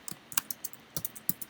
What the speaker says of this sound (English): tab, which is just the tab key on the keyboard